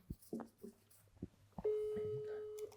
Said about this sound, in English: No, that's a foreign ringtone.